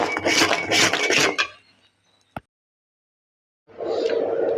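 Spoon scraping and stirring coconut milk with jaggery in a pan: two bursts of brisk, rasping strokes against the pan separated by a silent pause and a single sharp knock, close and fairly loud.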